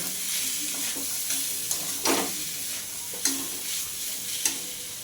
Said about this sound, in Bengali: নারকেলটা কড়ার মধ্যে দিয়ে কিছুক্ষণ এটাকে নাড়াচাড়া করে নেব